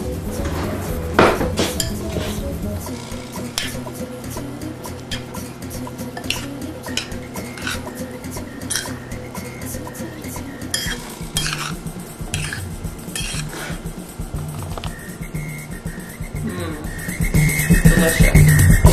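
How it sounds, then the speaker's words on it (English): Spoon clattering and scraping against a bowl while instant oats are stirred into boiling water, a steady run of close clinks and scrapes with a louder swell near the end. "And then you want to give it a good stir."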